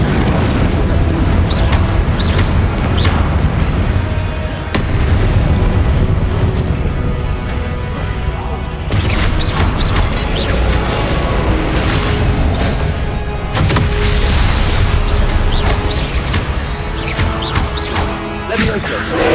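Fire spells and other spellcasting in Hogwarts Legacy, a loud, continuous stretch of booming bursts, crackling flames and repeated impacts, with a voice heard over the combat at times.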